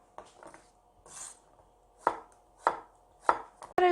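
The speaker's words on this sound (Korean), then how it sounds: "애호박도 이렇게 먹기 좋게 반달 썰기를 해주십니다." A knife slicing zucchini into half-moon pieces on a cutting board, several crisp separate chops spaced about half a second apart, close and fairly quiet, with no voices.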